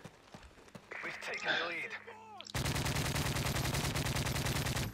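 Dense, rapid automatic gunfire from Call of Duty: Modern Warfare 3 erupts halfway through and rattles on loudly and continuously, following a stretch of in-game shouting and effects.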